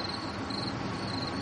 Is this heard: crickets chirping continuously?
yes